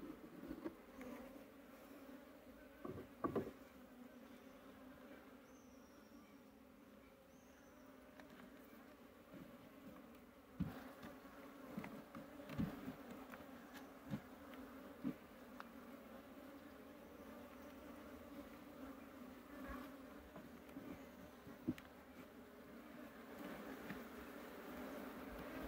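Honeybees with Italian queens drone in a steady, close buzz around an open hive, with scattered sharper passes and faint handling knocks, and nobody speaks.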